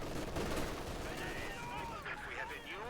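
Machine gun fire in a Company of Heroes 2 battle, heard as a continuous rattling chatter of automatic bursts under a steady commentator voice, with other battlefield noise around it.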